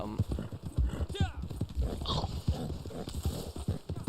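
Horse hooves clip-clop steadily in Red Dead Online, a regular rhythmic trot heard close and clear beneath someone talking, with a brief whinny partway through.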